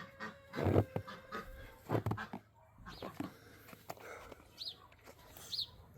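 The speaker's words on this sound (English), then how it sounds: "Oh, I hear the ducks." Ducks call outdoors on a snowy morning, faint honking and quacking notes scattered over a few seconds, with distant dog-like whimpers and soft background noise.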